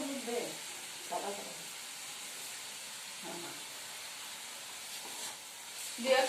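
Gima greens (gima shak) cook in a pan with a faint, steady sizzling hiss that runs throughout, while voices murmur softly at times in the background.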